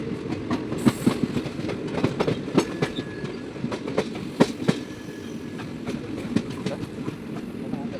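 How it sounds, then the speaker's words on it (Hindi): A Durg Nautanwa Express passenger train stands at a station as rail noise rumbles steadily, with repeated metallic clanks and clatters. A voice talks faintly beneath the noise. "दुर्ग नौतन एक्सप्रेस खड़ी है भाई इस साधन में।"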